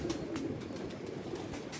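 A prized racing pigeon in the Shadbagh area cooing softly, a few low, repeated coos over quiet background with faint clicks, no talking.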